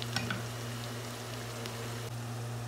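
Onion with ginger-garlic paste fries in a pan, giving a soft, steady sizzle and crackle over a constant low hum from the kitchen, with no talking.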